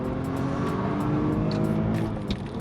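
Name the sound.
manual BMW 530i accelerating hard from 20 to 70 mph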